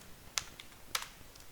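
Quiet clicks of a computer keyboard while working in an Excel spreadsheet, a few separate sharp taps in a sparse, uneven rhythm against a soft background, with no talking.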